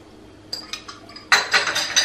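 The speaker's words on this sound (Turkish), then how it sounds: "bu karışımı hemen karıştırmaya başlıyorum." Utensil clinks against a bowl as egg, salt and sugar are mixed, several sharp clattering taps that grow louder and busier in the second half, with no talking.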